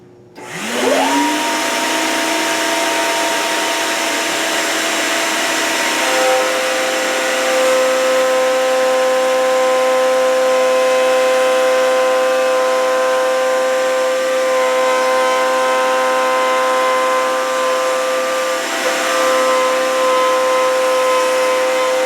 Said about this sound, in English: a round over bit and take these edges, these sharp edges off all the leg pieces